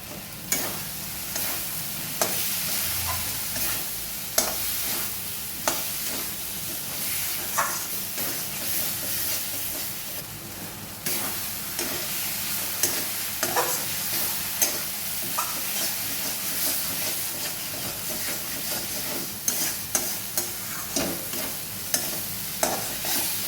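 Potatoes stir-fried in a pan for a duck egg curry: a continuous hissing sizzle with frequent sharp scraping and knocking stirring strokes, close and steady, with no voices.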